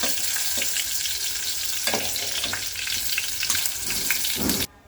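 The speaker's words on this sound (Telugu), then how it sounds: "పచ్చిమిరపకాయలు వేసుకుని ఫ్రై చేసుకున్నాను." Green chillies frying in oil in a pan: a loud, close, continuous sizzle with crackling bursts, then it cuts off abruptly near the end, with no talking.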